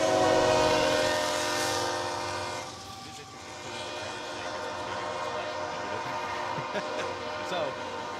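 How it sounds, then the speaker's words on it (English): A freight train passes a depot in Arkansas, its horn blaring loudly at first before fading into rumbling wheels and clattering railcars, with people talking nearby throughout. "we will occasionally get what's coming right behind us right now, which is a freight train"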